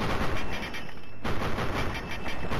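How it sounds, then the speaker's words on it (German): Explosion behind the player in the video game Fallout 3, amid a fight with raiders: a loud, sustained burst of rumbling blasts and gunfire-like crackle filling the whole span, with a brief dip midway and no talk. "Oh, hinter mir explodiert irgendwas."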